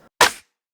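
One layered snare-rim hit combining a flam rim, a snap and a jingle rim, a sharp snappy crack with a brief bright rattle, heard alone with silence around it.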